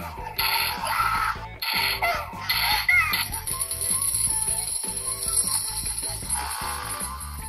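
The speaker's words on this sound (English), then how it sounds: "So those coins that you just heard, that means I destroyed all the ghosts." Bright metallic coins jingle and clatter in repeated bursts in a ghost-hunting game after all the ghosts are destroyed, layered over a busy electronic game tune with no talk.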